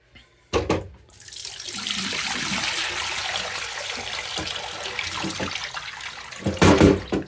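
Water emptied from a portable GE dehumidifier bucket pours steadily into a drain or sink for several seconds, a continuous splashing rush framed by brief knocks and clunks at the start and end.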